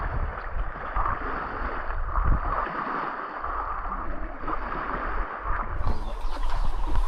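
A steady, broad engine rumble mixed with rushing water and wind, riding aboard a motorboat moving across open water on a fishing trip off El Nido, Palawan.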